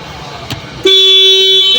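A car horn gives one loud, sustained honk during a vehicle inspection, preceded by a brief click and quiet handling sounds.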